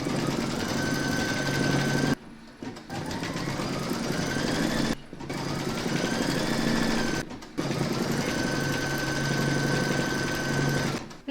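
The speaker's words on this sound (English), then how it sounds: "Load a black thread into your machine, and then you're going to stitch round number 9" An embroidery machine stitching the black eyes of a shark bookmark in black thread, a fast, steady mechanical whirring hum, loud and close, broken by three brief pauses.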